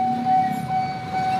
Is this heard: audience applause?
no